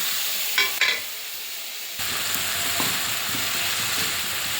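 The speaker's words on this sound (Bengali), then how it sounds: "এটা দিয়ে মশলাটা ভালো করে কষিয়ে নেব" Masala paste of chilli, turmeric, cumin and coriander powders mixed with water, fried and stirred in a pan: a couple of quick spoon scrapes over a hiss, then a louder steady sizzle with light stirring clatter.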